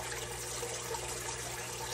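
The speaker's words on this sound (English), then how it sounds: "And we are going to pour this all over our macaroni." Thick homemade cheese sauce poured from a pot over cooked macaroni, a steady soft liquid pour with a faint hum underneath and no talking.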